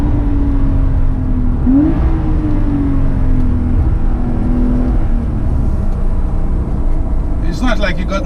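A Porsche 911 Carrera S of the 992 generation accelerates on its turbocharged flat-six engine. A steady engine drone rises in pitch through the gears beneath continuous close talking from inside the car.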